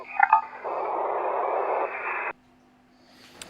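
A radio transmission comes through as a steady band of static-laden noise with brief tonal bursts at the start, then cuts off abruptly to a faint hum, with a short crackle near the end.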